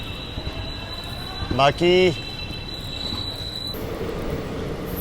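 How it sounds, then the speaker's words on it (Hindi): A Vande Bharat train pulls away from platform 2 at Nadiad Junction with a steady high whine, a brief horn-like tonal call partway through, and a low rumble, while a person speaks. "प्लेटफॉर्म नंबर 2 से अपना डिपार्चर हो रहा है नडियाद जंक्शन स्टेशन के"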